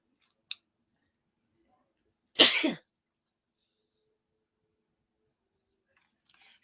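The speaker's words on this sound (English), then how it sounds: "even that sneeze, it is an effect from my looking at the sun" A single sharp sneeze, close and loud, preceded by a faint click and followed by near silence with a few soft noises at the end.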